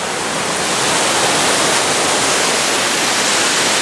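Rainbow Falls in Gorges State Park roars as a steady, loud wash of falling water, a dense broadband rush heard up close and alone throughout.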